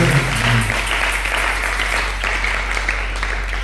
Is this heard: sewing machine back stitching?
no